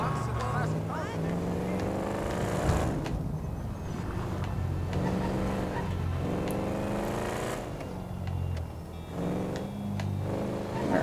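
A car tearing across rough off-road ground in GTA V, its engine droning and revving steadily under a talking voice, with bumps and surges along the way.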